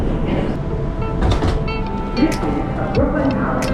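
A New York subway train, a 2 train bound for Brooklyn College, rumbling loud and close with rail screeches and clatter over a steady roar, and faint voices mixed in.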